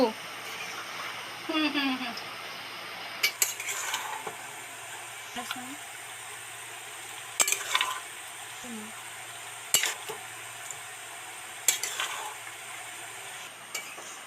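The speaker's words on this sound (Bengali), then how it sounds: "ভালো করে নেড়ে চেড়ে মিশিয়ে দেব" Kashmiri aloo dum, potatoes in a spiced curry, stirred in a pan, with scattered scraping clatters and soft bubbling across the clip, and a voice speaking intermittently underneath.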